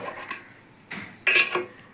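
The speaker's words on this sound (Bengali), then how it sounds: "এটাকে সুন্দরভাবে একটু নেড়ে দেব, সব মশলাটা যাতে ভালোভাবে মিশে যায়" A spoon clinks and scrapes against a pot while chicken biryani masala with ghee is stirred, with a few light metallic taps, faint and close.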